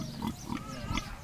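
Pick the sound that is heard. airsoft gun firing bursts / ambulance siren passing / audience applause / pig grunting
pig grunting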